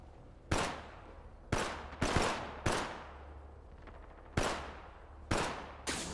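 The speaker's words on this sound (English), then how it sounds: "The enemies are shooting at me." Loud bursts of gunfire in an Apex Legends match, coming in six sharp separate volleys with short ringing tails and pauses between them. No talk is heard under the shots.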